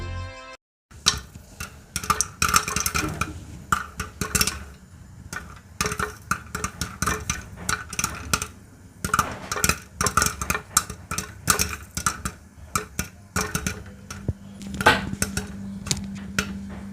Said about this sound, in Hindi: अब आप देख सकते हैं हमारे 1 से 2 पॉपकॉर्न अच्छे से पॉप होने लग गए हैं।